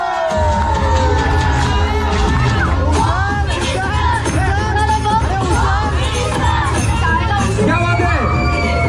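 A loud audience at a Paithani prize-giving game show cheers, whoops and claps for the winning sister-in-law, with dense crowd noise and children's shouts continuing throughout.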